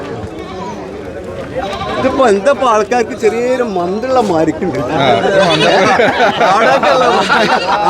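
Sheep bleat repeatedly at Chattiparamba goat market, with wavering, close cries that rise and overlap while several people talk loudly over them.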